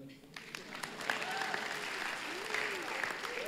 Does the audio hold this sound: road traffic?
no